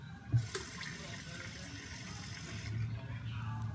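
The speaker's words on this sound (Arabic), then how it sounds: "غادي نكملو بالماء" Water is poured into a glass holding a little milk, giving a brief splash followed by a steady filling trickle, close and moderately loud.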